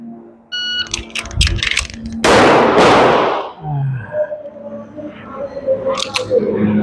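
A pistol's trigger is dry-fired during a magazine change drill, giving a few sharp metallic clicks and handling rattles, then a loud burst of noise, with a voice speaking briefly nearby.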